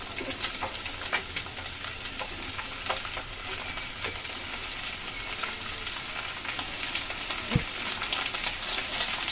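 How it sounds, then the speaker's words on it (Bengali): Cabbage and potatoes sizzle and crackle steadily in hot oil for a fish-head curry, with occasional stirring scrapes and soft pops throughout, close and fairly loud, no voices. "আলুর সাথে ভালো করে ভেজে নিলাম। এখন দিয়ে দিচ্ছি বাঁধাকপি।"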